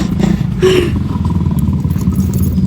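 A motorcycle engine rumbles nearby at a steady idle with slight revving, a close, continuous low throb with light clatter throughout.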